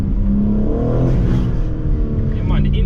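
BMW M4 Competition engine fitted with an aftermarket intake, droning and revving loudly from close by on city streets in Toronto, with a voice talking over it.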